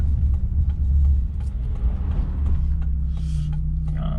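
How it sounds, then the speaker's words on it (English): A truck rolls past on a New York city street, a deep close engine rumble with mechanical clatter, heard from inside a car, with a faint hiss near the end. "Wait for this guy to pass in this truck"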